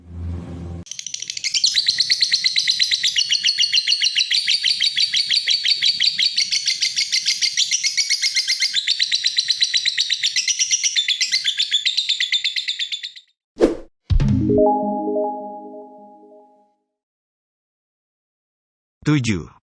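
Rapid, shrill bird chirping pours out nonstop for about thirteen seconds, followed by a couple of brief sharp squawks and a short harmonic call, then near silence.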